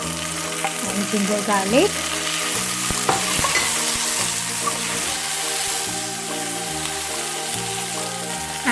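Dry Sidra fish and tomato fry in a hot pan, a loud steady sizzle with stirring scrapes and clinks, while a voice speaks briefly near the start.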